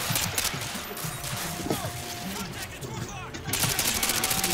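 Gunfire in Modern Warfare 2 rattles continuously in rapid, dense bursts, loud and close, with a voice occasionally speaking over the shooting.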